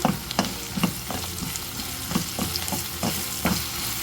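Onion, coconut and ginger-garlic paste frying in oil in a pan for a paneer curry masala, giving a steady loud sizzle with repeated soft scrapes and knocks of a spoon as the mixture is stirred, with no voices.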